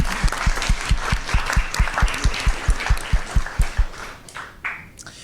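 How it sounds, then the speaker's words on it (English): Rhythmic clapping in a steady beat from a crowd at a school district governing board meeting, loud and close, fading out toward the end. "give them a round of applause"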